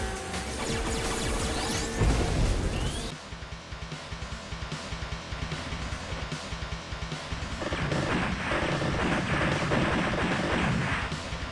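Ships fire in the arcade shooter video game Super Zix, with dense rapid blasts, booming impacts and crashing explosions layered over game music, steady and loud throughout.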